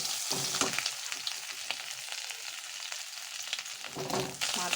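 Small tengra fish fry lightly over medium heat in an oil-filled wok, a constant crackling sizzle broken by occasional sharper pops and stirring scrapes, with no voices.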